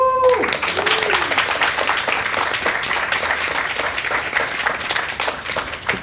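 Audience applause at a live speedrun charity event, a dense wash of clapping that holds steady for several seconds after a brief electronic game tone at the start.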